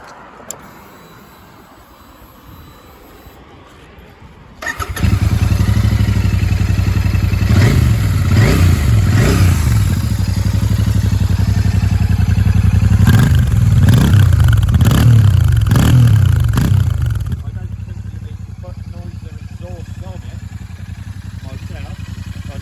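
A Royal Enfield Super Meteor 650 motorcycle engine starts up and settles into a steady, loud close idle with a few throttle blips in the middle, then the level drops as it continues running.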